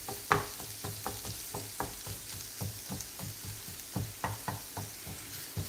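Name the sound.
onions frying in a pan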